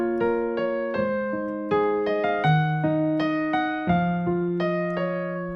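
Solo piano plays the second section of a song, a steady sequence of sustained chords with bass notes changing about every second, close and clear with no talking.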